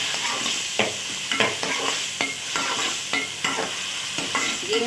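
Spices with salt, ground coriander and cumin frying in a pan for chicken tarka, a steady hiss and sizzle broken by repeated spoon scrapes in an uneven rhythm, close and fairly loud, no speech.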